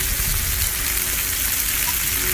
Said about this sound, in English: In the meantime, just enjoy the sizzle.